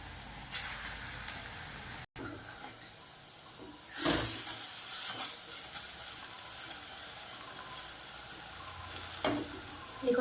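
Snacks deep frying in a pan of oil at home, a continuous low sizzle and bubbling with a few louder bursts as pieces are stirred, heard fairly close in a quiet room.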